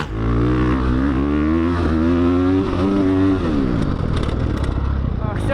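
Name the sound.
Ducati 450 dirt bike ridden hard on motocross track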